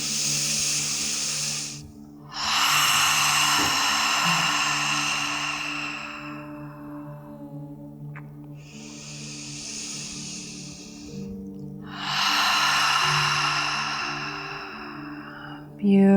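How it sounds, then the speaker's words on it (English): Long open-mouth exhales in pregnancy yoga breathing, three or four drawn-out breathy whooshes close to the microphone, each lasting a few seconds, separated by quieter inhales over a faint steady hum. "So inhale, exhale, open mouth."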